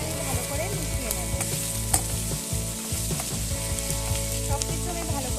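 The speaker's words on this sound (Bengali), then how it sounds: "সব কিছু আমি ভালো করে মিশিয়ে নিচ্ছি।" Vegetables seasoned with turmeric, salt and cumin being stirred in a frying pan for a Bengali chital fish and pea chorchori, giving a steady loud sizzle with repeated scraping stirs throughout.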